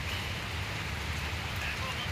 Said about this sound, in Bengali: দেখেন প্রচুর বৃষ্টি, প্রচুর